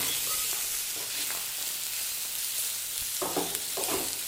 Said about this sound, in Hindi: ये देखें, थोड़ी देर के लिए अच्छे से हमने कर लेनी है भुनाई।